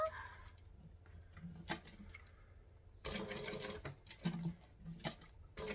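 A sewing machine stitches D-rings down onto a fabric triangle bag, a faint, quick rattling burst after some quiet handling noises.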